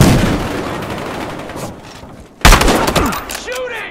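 Gunfire in the video game Battlefield Hardline: a steady run of shots rumbles through the first seconds, then a loud, sharp burst hits near 2.4 seconds and rolls into sustained crackling fire with whizzing effects.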